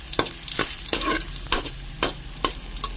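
Garlic fries in oil in a pan while a spatula stirs it: a constant sizzle cut by sharp, regular scraping strokes about twice a second, close and clear.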